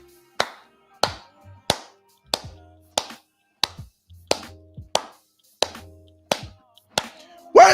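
A hand-clap sound effect fires from a soundboard in a steady beat, about a dozen crisp, evenly spaced claps at a moderate pace, each ringing briefly.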